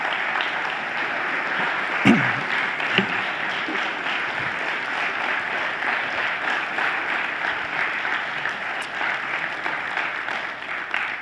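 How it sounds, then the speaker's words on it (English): A church congregation applauds steadily, a dense even wash of clapping that holds for about eleven seconds with a couple of sharper claps early on and no break. "give them a round of applause."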